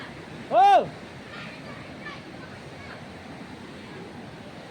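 The flood-swollen Teesta river in Sikkim rushes past in a steady, broadband roar, with a brief loud vocal shout near the start.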